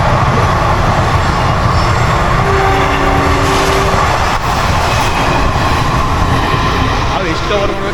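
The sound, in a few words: train passing by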